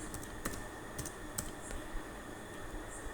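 Quiet typing on a computer keyboard, a string of light scattered key clicks with a few sharper taps over faint background hiss.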